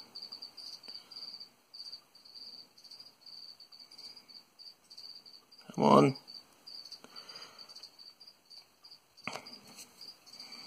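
Crickets chirp in a steady, fast pulsing trill throughout, kept as feeder insects, with a person speaking briefly and a sharp louder knock partway through.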